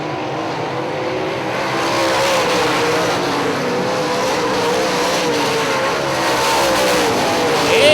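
Late model stock cars race around Hartford Speedway in a dense, continuous engine roar, with tires squealing through the turns and a pack of cars sweeping past close to the microphone. No voices are heard.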